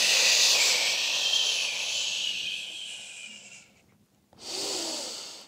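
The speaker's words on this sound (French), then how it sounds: "J'inspire et j'expire." Steady breathing in and out during a beginners' Pilates class, a close, airy hiss of inhale and exhale that runs for several seconds, drops to near silence, then resumes; no one speaks.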